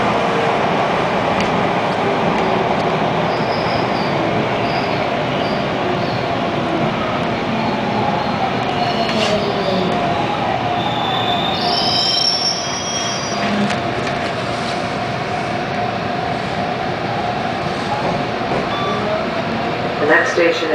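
A Toronto TTC Line 2 subway train pulls into Dundas West Station, with loud continuous rumble and shrill wheel squeal heard from onboard over about twenty seconds, while a station announcement plays over it.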